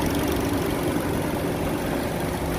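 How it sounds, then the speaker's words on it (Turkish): A Chevrolet Malibu's engine idles steadily and close by, a continuous low rumble with a dense broadband hum and no pauses or revving across the short stretch. "mana avtomashinamiz motori ishlab turibdi"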